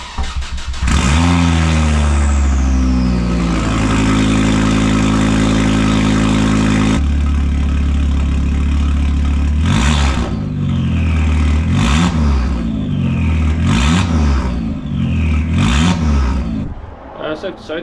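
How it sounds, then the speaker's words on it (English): A Ford Focus MK2 engine with the exhaust removed cranks and starts, idles loudly and roughly up close, then gets revved repeatedly in sharp, raw bursts that rise and fall. "Obviously this wouldn't be a YouTube video unless we started it up without the exhaust on"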